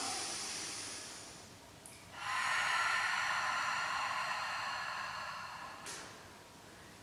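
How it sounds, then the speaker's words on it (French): Slow breathing in and out during a beginner Pilates exercise: a long airy exhale that swells and then fades, followed by a short breath, soft and close, with no talking. "Encore, on inspire et on expire."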